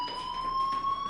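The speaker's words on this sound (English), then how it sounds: "do you hear that fire alarm? That means you should be outside." A video game fire alarm sounds as a steady, piercing electronic tone with harmonics, continuous and fairly loud through the short moment, with no talk over it.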